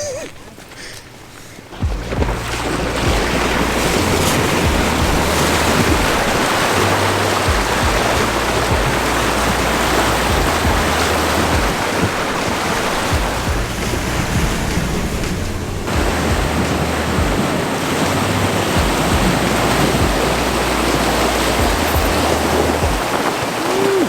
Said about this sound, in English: That is definitely the deepest water I've driven the Tundra through so far.